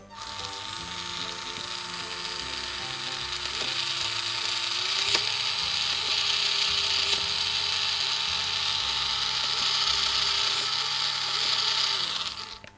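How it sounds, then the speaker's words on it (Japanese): A WPL RC truck's drivetrain and servo mechanism running and shifting gears: a steady, close mechanical whir with a bright hiss and a few sharp clicks as the shift engages. "これで、こんな感じでスムーズにシフトチェンジができるようになった状態。"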